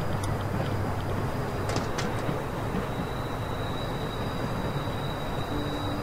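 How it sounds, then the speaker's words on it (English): A train rolls along in The Walking Dead game, a constant loud rumble of wheels and carriage noise with a thin high whine running through it and a few brief metallic clicks. "You need to stop the train."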